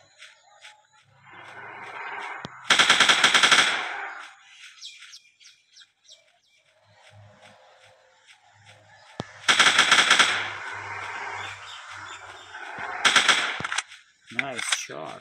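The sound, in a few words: gunshots in a dinosaur hunting video game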